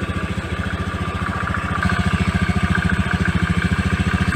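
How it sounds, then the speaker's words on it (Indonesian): A Honda Vario 110 scooter engine idles steadily up close, a rapid even putter from the exhaust that holds its rhythm without rising or dipping, getting slightly louder partway through. "suara dari knalpot yang dihasilkan sudah stabil, tidak naik turun dan tidak mati-mati ya"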